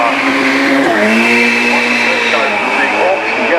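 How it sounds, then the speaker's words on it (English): A McLaren P1, a 900-horsepower hybrid supercar, drives past at the Goodwood Festival of Speed 2019 with a loud, close engine roar whose pitch shifts as it goes by and holds throughout. "That's a hybrid supercar, 900 horsepower."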